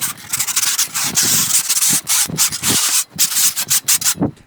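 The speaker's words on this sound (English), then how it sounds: "and then we're going to sand it." A skim-coated drywall wall is sanded by hand in quick, rhythmic back-and-forth strokes, producing a loud, close, gritty rasp with short pauses between passes.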